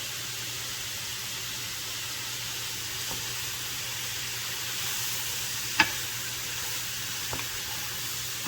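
Cabbage sizzling and frying in a hot pan on high heat, a steady broadband hiss with a few faint stirring clicks and one sharper clatter near the middle.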